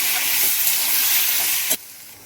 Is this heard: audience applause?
no